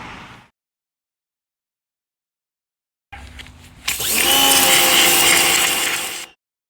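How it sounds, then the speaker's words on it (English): A Craftsman angle grinder with a regular cutting wheel grinds a GM 9.25 Duramax front differential, a loud sustained metallic whine that lasts about two and a half seconds, starting after a short burst of earlier noise and a silent gap. "all I'm using is a Craftsman angle grinder from Lowe's with regular cutting wheel"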